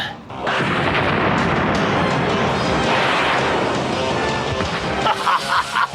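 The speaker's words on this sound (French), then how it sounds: "Et maintenant, l'artillerie lourde." Heavy artillery cannon fire from the Big Bertha gun in a Power Rangers battle scene: a dense, loud roaring blast that fills the clip, with sharper crashes and rumbling near the end.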